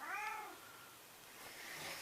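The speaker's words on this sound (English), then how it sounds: "My cat's here." A house cat gives a single clear, close meow at the start, followed by quiet room tone and faint rustling.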